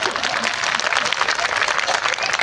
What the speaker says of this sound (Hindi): ताली तो पीछे तक समझ में आनी चाहिए।